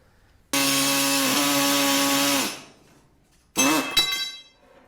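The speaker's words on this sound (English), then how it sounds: "I want to see if this little panel saw cut through it" A small hand panel saw rasps through stainless steel in one long stroke run of about two seconds, then a second shorter burst, loud and close with harsh ringing metallic tones and no talking.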